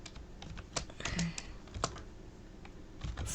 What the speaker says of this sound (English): Okay, so type right here.